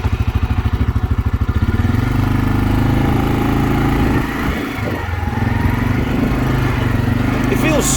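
A brand-new CFMOTO CFORCE 520 EPS ATV engine chugs in a rapid, steady pulse that smooths into a continuous loud hum as the quad drives around nearby, with a brief dip midway.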